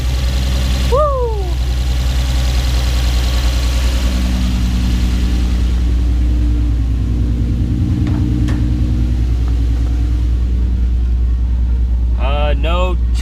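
An Infiniti G35 Coupe engine, fitted with newly installed R35 GTR injectors, idles steadily with a low, even rumble; a voice briefly makes squeaky sounds at the start and near the end.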